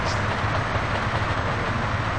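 A train rolls past in the multiplayer version of GTA San Andreas, a loud, steady rumble of wheels and carriages that fills the whole stretch without any talking.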